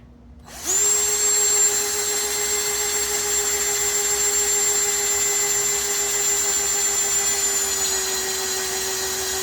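A steady electric drill whine spins a priming tool to build oil pressure in a 273/318 engine with the heads just bolted on, starting abruptly and running loud and constant with a high pitched tone throughout.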